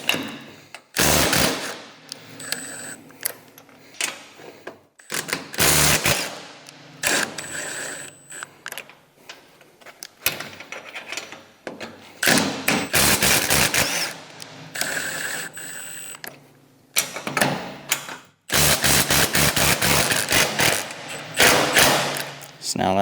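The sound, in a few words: 9/16 socket wrench loosening snowblower bolts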